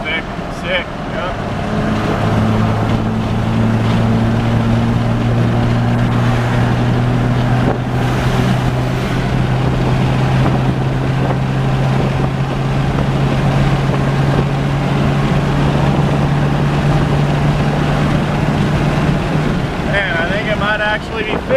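A 2003 Cummins diesel truck, just repaired for low fuel rail pressure, pulls at wide open throttle up a long grade, its steady engine drone slowly climbing in pitch under heavy wind rush and occasional talk.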